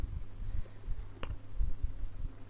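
Typing on a computer keyboard while working in a Linux bash terminal, a quick run of soft, close clicks over a low hum, with one sharper tap partway through.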